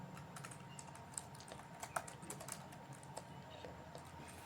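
Code being typed on a computer keyboard: quick, uneven runs of soft key clicks with an occasional sharper tap, close and quiet with no talk.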